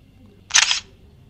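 YI Ultra dash camera fires a short electronic shutter click for a photo taken by voice command, a single crisp snap lasting a fraction of a second against near silence.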